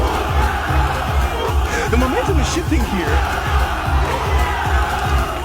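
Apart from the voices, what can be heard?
fans cheering loudly at MMA fight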